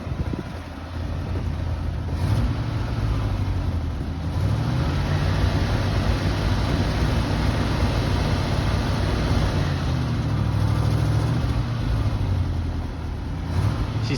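An International LoadStar grain truck engine idling a little unevenly, a steady low rumble that rises and dips as it pulls away in low range, with wind noise over the microphone and no speech.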